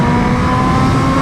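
A BMW M1000RR motorcycle screams under hard acceleration, its engine note loud and close as a steady, high-revving roar with strong harmonic whine, with no voices.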